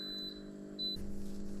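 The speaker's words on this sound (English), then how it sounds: "We've got alarm. What does it say? Over discharge protection." An over-discharge protection alarm on a DIY battery build (EEL V5 case with EVE LF280K double-hole cells) gives two short, high beeps over a steady electrical hum, followed by a burst of broadband noise.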